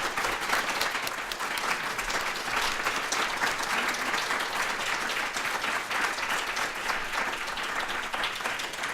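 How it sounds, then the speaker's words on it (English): Audience applause for two guests at the close of a live podcast discussion on U.S.-China relations, a steady, fairly distant wash of many hands clapping that never lets up. "Let's hear a good round of applause for these two."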